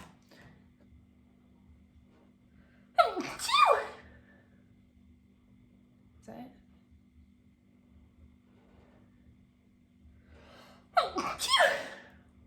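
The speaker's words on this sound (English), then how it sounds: "Sorry, I'm going to sneeze." Two sharp sneezes, each with a gasping intake before the burst, sound close by, several seconds apart, over a quiet background hum.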